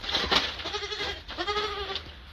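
Several goats bleat in quick succession, wavering calls close by and fairly loud, overlapping a little, while eating grass silage.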